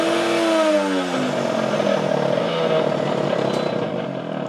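A high-speed AMZCHEF WX-Y10 blender motor runs loud and steady, its pitch sweeping upward as the speed knob is turned, then holding a dense whirring roar alone.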